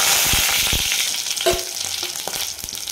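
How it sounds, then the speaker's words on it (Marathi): Mustard seeds crackling and popping in hot oil as they temper in a pan, a continuous close sizzle broken by sharp irregular pops, with no talking. "मोहरी छान फुलल्यानंतर तडकल्याचा आवाज येत असेल"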